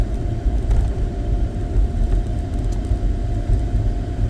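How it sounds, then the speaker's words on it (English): Car heater blowing on full blast inside a cold car, a loud steady low rumble and airy whoosh filling the cabin without pause. "I definitely got the heater on full blast, trying to warm up the car."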